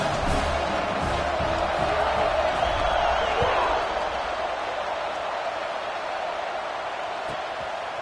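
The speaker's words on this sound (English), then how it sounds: "this crowd is buzzing after that last score" A dense, roaring stadium crowd at a college football game involving Syracuse, with continuous loud cheering and a broad, steady wash of noise that swells slightly and then holds.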